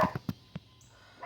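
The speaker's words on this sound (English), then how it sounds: "Now you're probably hearing a little bark in here." A small dog gives a few short, sharp yips in quick succession, fairly close, outside a backyard shed, then falls quiet with faint background hiss.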